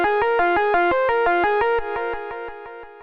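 A synth pattern of repeating notes runs through a delay effect chain in Ableton, echoed and chorused, loud at first and then dropping lower and softer near the end.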